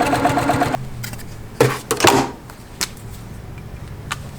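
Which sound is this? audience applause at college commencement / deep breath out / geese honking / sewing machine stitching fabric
sewing machine stitching fabric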